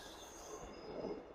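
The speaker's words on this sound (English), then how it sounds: "Oh, I love the sound of the trains" Trains passing near a riverside path by the Henry Hudson Bridge, a faint distant rumble with squealing wheels and rail noise rising briefly, heard alone with no talking.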